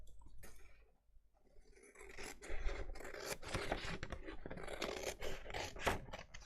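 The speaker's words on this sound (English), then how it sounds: "I'm going to use some long bladed scissors to cut that out" Long-bladed scissors snip through scrapbook paper in a quick series of crisp, close cuts and rustling scrapes, with a brief pause before a steady run of cutting.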